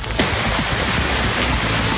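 Heavy rain pours steadily during a violent thunderstorm, a dense, loud wash of hiss that continues without break, with no voices.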